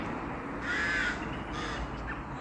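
Two or three harsh crow caws ring out near their nests over a low, steady outdoor rumble, fairly close, with a brief pause between calls.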